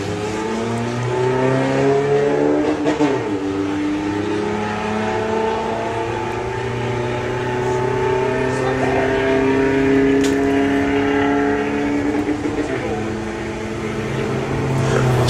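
A VW Beetle drag car in the VW Sportsman class at Bug Jam runs loud, sustained engine noise with rising and falling harmonic tones. An announcer talks over the engine throughout.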